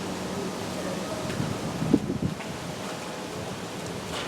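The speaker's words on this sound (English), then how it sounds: "it's pretty breezy" Steady wind blows outdoors after a tornado, a broad continuous rush against the microphone with a brief gust-like swell in the middle and no talking.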